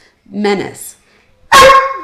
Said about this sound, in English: people are dropping off because Thor won't stop barking